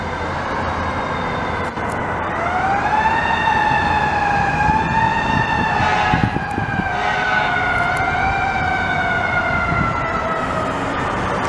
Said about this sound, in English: Siren? Siren?